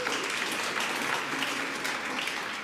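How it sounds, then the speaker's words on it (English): A congregation at a synagogue gathering gives a round of applause for a man named Bill, dense continuous clapping that fills the whole moment, loud and even, with no voices over it. "A round of applause for Bill right here."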